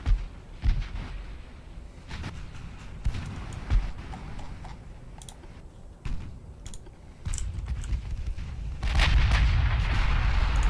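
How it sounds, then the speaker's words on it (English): Secondary 4-inch guns fire in Ultimate Admiral Dreadnoughts, a naval battle game, giving sharp, irregular bangs and thuds scattered over several seconds, with a louder, rumbling stretch toward the end. "So we get to see the secondary 4-inch guns in action."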